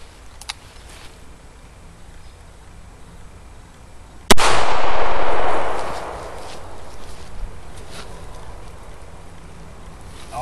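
.38 Special 158-grain hollow point round fired at a Kevlar helmet outdoors: a single loud, sharp gunshot with a cracking impact, followed by a broad roaring echo that fades over about a second and a half.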